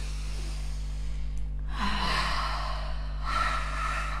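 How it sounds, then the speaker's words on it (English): A deep breath drawn in by a group at a live talk, a broad airy inhale rising clearly above a steady low hum, followed moments later by a second softer breath. "Let's take a deep breath in on that."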